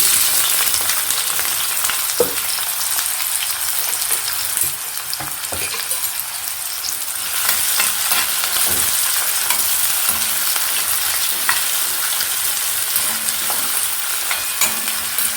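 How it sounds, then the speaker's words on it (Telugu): Onions and green chillies frying in hot oil for a prawn and ridge gourd curry, a loud continuous close sizzle with occasional stirring scrapes and small pops throughout, no voices. "ఆయిల్ హీట్ అయిపోయింది. ఇప్పుడు ఉల్లిపాయలు పచ్చిమిరపకాయలు వేసుకుందాం."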